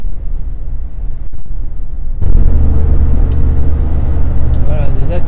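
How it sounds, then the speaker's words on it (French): Bentley Mulsanne Turbo, sharing its big engine with the Rolls-Royce Silver Shadow, accelerates hard; a loud, deep engine roar surges in about two seconds in and holds steady and close, with some wind buffeting. "vraiment un gros moteur qui tourne bien, même moteur que les Rolls de type Silver Shadow"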